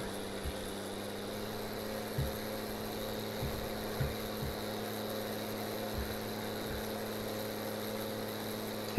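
A tractor engine idles in Farming Simulator 19, a steady low mechanical hum with faint periodic knocks, heard alone.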